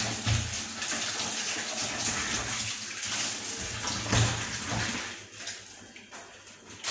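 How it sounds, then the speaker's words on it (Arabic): A tap runs steadily into a sink as vegetables are rinsed, giving a close, continuous gush with a couple of heavier splashes and bumps, and it eases off near the end; no voices. "غادي نغسل الخضره باش نربح الوقت"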